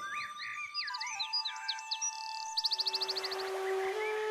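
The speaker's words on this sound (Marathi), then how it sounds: "पक्ष्यांच्या या चिवचिवाटाला इंग्लिशमध्ये चिरपिंग म्हणतात." Several small birds chirp and tweet in quick, varied calls, with a rapid burst of repeated trills near the end over a steady background hum.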